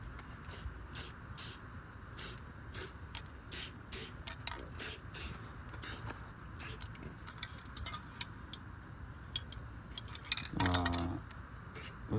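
Aerosol cleaner sprayed into the carburetor of a Jeep CJ intake in a driveway: a run of short, sharp hissing bursts in an uneven rhythm, close by, ending with a faint metallic clink.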